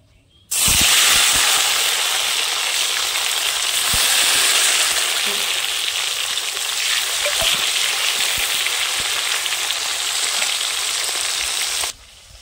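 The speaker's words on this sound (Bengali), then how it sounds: "এখন টমেটো কুচি করে নিয়েছিলাম, টমেটো কুচিটা দিয়ে দেব।" Chopped tomatoes frying in a pan of hot tempered spices, giving a loud, steady sizzle and hiss that starts abruptly and runs for about eleven seconds before cutting off, with occasional faint stirring clicks.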